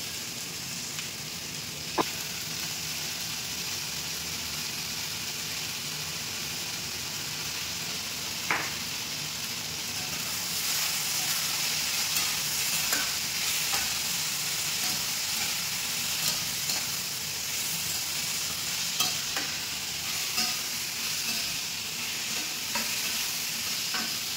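Pieces of fish fry with salt in a pan, giving a continuous dense sizzle that grows a little louder midway, with a few faint scraping stirs, heard close and without talk.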